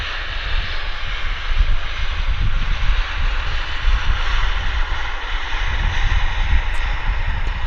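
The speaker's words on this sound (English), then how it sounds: "There's flaring. Flare 737 MAX." A Boeing 737 MAX jet flares to land at Vancouver Airport, its engines producing a loud, steady broadband roar that holds constant and close throughout, with no voices.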